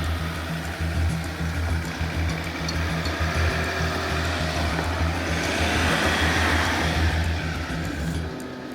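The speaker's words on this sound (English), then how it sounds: "Had all 4 wheels spinning then." An Ineos Grenadier Quartermaster climbs a steep off-road slope with all four wheels spinning, its engine a loud, sustained roar and its tyres clawing for traction throughout.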